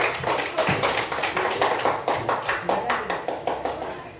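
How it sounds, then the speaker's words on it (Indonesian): Rhythmic group clapping in an Indonesian school classroom during an Islamic religious education lesson, with steady close beats about three per second and voices mixed in. "tepuk tangan untuk kelompok iman"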